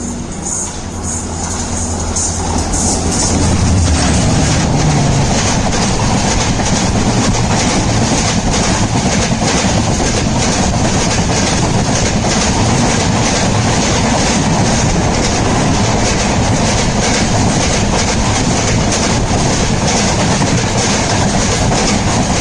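Express train on the Konkan line passing at speed, a loud, sustained roar of wheels and rushing air with rhythmic clatter that builds quickly and stays close for the rest of the stretch.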